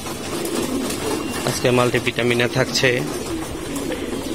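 Baby pigeons cooing softly while eating, with a short burst of close cooing partly mixed with a person talking.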